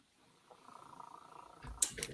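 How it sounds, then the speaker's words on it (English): A house cat purrs close by with a soft, steady low rumble that builds through the clip, followed by a couple of louder rustling bumps near the end. "Are you purring, Lopez?"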